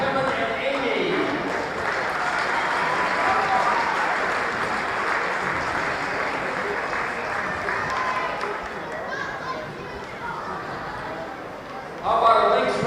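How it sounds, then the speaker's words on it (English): At a basketball double header, a gym crowd gives steady, sustained applause for senior players, managers and cheerleaders, a broad continuous roar that swells briefly near the end, with a voice over the loudspeaker mixed in. "How about a Lynx round of applause for our senior players, managers, and cheerleaders?"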